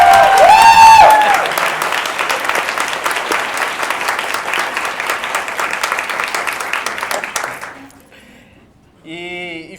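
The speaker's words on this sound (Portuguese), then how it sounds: "Pode aplaudir." An audience at a theatre school inaugural lecture bursts into loud, dense applause that carries on steadily for about eight seconds, then fades away as a voice comes back in briefly.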